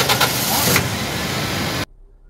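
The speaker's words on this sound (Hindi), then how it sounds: "अभी देखा आपने, गाड़ी ने थोड़ा सा स्टार्टिंग लंबी ली है" A Toyota Corolla pickup engine cranks over a long start, a loud close churning whir that lasts nearly two seconds and then cuts off abruptly to near silence.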